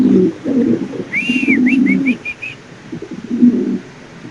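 Indonesian pigeons cooing in low, rolling bursts, with a few thin high chirps in the middle; close and fairly steady, no talking.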